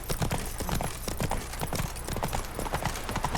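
Hooves of Roach, Geralt's horse in The Witcher 3: Blood and Wine, clip-clopping in a steady, brisk rhythm close by, each hoofbeat crisp and distinct.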